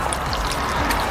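Water poured onto potted plants at home, including basil, a steady soft trickle and splash running for about a second, close and alone with no talking.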